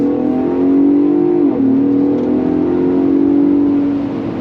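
Ford Bronco Raptor engine pulling hard on throttle, a steady loud drone that climbs slightly, dips at a shift, then holds a strong even pitch, heard from inside the vehicle with no talking.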